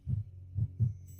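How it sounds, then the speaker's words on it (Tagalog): Heartbeat sound effect in a Filipino drama: three soft, low thumps in a lub-dub rhythm, played close and alone with no talk over them. "Yung tibok ng puso mo."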